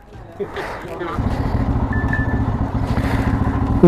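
Motorcycle ride on a road trip from Jalandhar toward Kangra, with a steady engine and road rumble building after a quiet start and holding loud and close, a faint tone rising briefly midway.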